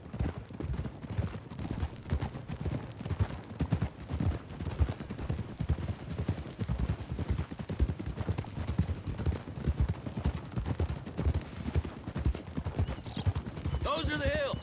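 Horse hooves clip-clop in a fast, continuous gallop in the video game Red Dead Redemption 2, with characters talking over the hoofbeats.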